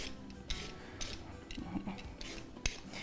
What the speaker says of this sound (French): Donc, je vais éplucher mes patates douces.